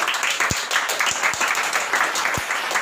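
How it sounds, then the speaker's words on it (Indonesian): A crowd at a Minang comedy show applauds a judge being introduced, a steady wash of clapping with a few heavy low thumps scattered through it, close and fairly loud. "Tepuk tangan."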